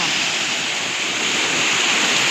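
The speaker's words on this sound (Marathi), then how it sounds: "आता हे पाणी बघून घ्या आणि आपलं मन शांत करा. कसा आहे झरणा वाटतोय गावाकडचा" A village waterfall pours steadily, a broad continuous rush of flowing water that stays loud and even throughout, with no voices over it.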